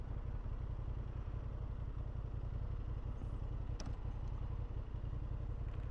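A 2023 Honda Hornet motorcycle cruising in sixth gear, its engine giving a steady, close rumbling drone with road and wind noise that holds level for the whole stretch, with no talking.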